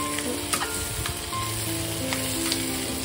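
Chili fish fries in a pan with a steady, close hiss of sizzling oil, punctuated by faint stirring clinks and pops.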